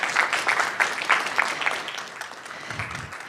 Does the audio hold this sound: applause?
yes